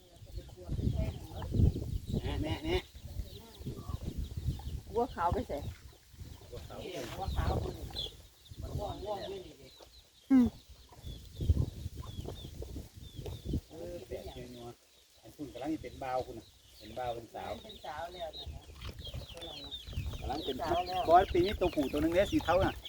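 Chickens cluck and squawk repeatedly at a farmyard, close and fairly busy, with bursts of clucking through the whole stretch while people talk in Thai over and between the birds.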